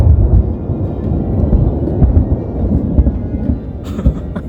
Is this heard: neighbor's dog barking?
no